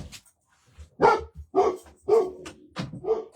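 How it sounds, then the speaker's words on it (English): A pet dog barks indoors while someone rings the doorbell at home, a run of five or six loud, close barks in an uneven rhythm with short gaps. "I'm sorry for the dog barks"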